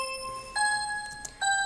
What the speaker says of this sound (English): So now that we got the bell